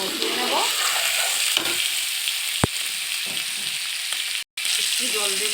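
Turmeric, coriander and cumin powders fry in a pan for chicken curry, a loud, continuous sizzle with occasional scraping stirs and one sharp clink, broken by a brief cut near the end.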